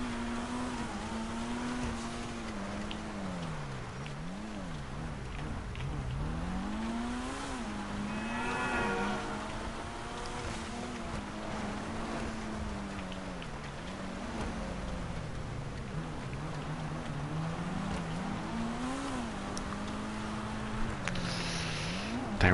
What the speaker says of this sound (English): this car kind of sounds like a vacuum cleaner